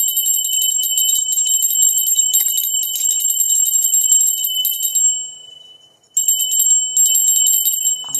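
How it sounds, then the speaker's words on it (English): A bright electronic bell rings in a continuous high trill, briefly cutting out and then resuming, loud and alone with no talk. "going to ring the bell"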